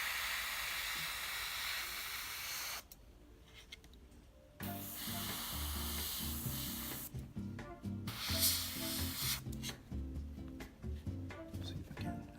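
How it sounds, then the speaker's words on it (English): Airbrush spraying Mission Models acrylic paint on a scale model, a steady close hiss that cuts out and resumes in bursts as layers are built up, with breaks of quieter room noise between passes. "I like to support the airbrush with my finger here."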